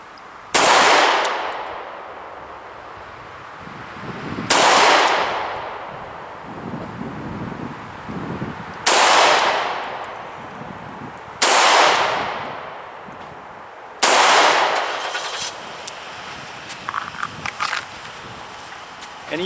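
Five loud single-action shots from a CZ 75 B pistol fired at a target about five yards away, each a sharp crack with a ringing tail, spaced slowly a few seconds apart outdoors.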